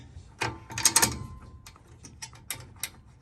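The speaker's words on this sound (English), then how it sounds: "Come down, and you can see this is cranking nice and tight." A retractable, mountable ratchet strap is cranked tight by hand, giving a series of short, sharp ratcheting clicks and mechanical snaps in uneven bursts at close range, with no voice over them.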